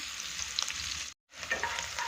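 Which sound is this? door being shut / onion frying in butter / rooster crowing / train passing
onion frying in butter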